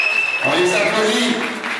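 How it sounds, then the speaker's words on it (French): Brief audience applause at an inter-association event, short and mixed with voices and a whistling or musical tone over the clapping. "On les applaudit."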